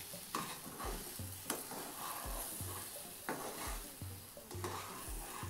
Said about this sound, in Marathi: प्लेटमध्ये काढून घेऊया।